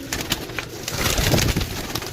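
Pigeons coo softly among a flock held for sale, low repeated murmuring calls over rustling and a close busy background with no speech.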